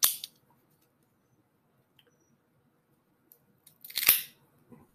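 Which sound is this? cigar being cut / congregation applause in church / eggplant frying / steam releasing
cigar being cut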